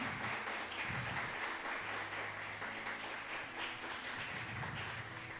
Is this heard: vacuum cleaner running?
no